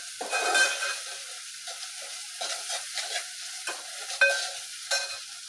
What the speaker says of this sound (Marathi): हळद 1 मिनिट मी परतून घेते।